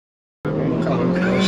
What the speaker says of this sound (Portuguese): É o freio! Ô, oh, ABS é bom, hein?